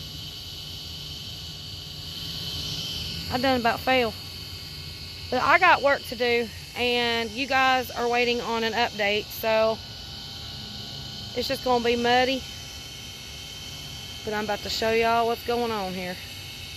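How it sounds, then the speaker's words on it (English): A steady mechanical whine and hum from a motor drones underneath someone talking, high-pitched and constant throughout. "I have the pool pump running and it has an issue with the motor. It's being super loud"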